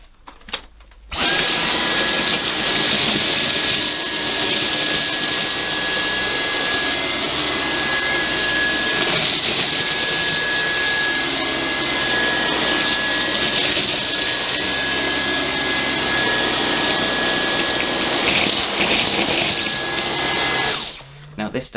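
Dyson cordless vacuum cleaner running continuously on carpet as it picks up breakfast cereal, a loud steady high-pitched motor whine with rattling debris, starting abruptly and stopping after about twenty seconds.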